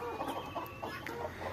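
Chickens in a poultry shed cluck in quick, repeated bursts, several birds overlapping at moderate distance with a steady barn hum beneath.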